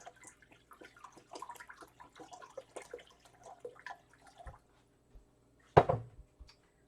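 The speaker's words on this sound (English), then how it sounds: "So let me rinse the container I'm going to put it in." Filtered water splashes and trickles as a container is rinsed, with scattered drips and small knocks, then one louder splash or thud near the end followed by quiet.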